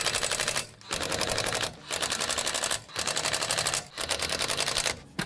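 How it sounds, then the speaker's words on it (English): Impact wrench on its lowest setting tightening front wheel bolts on a Skoda Fabia, loud close rattling bursts of about a second each with brief pauses between them. "I'm going to gun them up on the lowest setting of my impact gun"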